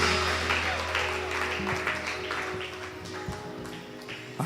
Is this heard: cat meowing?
no